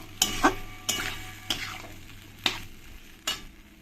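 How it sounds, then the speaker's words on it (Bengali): Taro roots fry with spices in a pan, a soft sizzle running under five or six sharp scraping stirs spaced roughly evenly, close and fairly quiet, with no voices. "মশলার সঙ্গে দিয়ে কচুর মুখিগুলোকে ভালো করে আমি একটু ভেজে নেবো"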